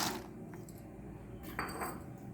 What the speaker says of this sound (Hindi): अब हम इसमें अपने काजू डाल देंगे